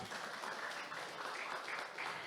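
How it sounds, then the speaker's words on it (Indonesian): Audience applause greets a visiting professor at a science talk, a steady, soft wash of many hands clapping for the whole stretch with no voices over it. "Beri tepuk tangannya"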